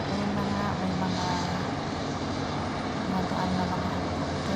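Helicopters droning overhead in a steady, loud rumble with a low whirring tone, voices faintly under it.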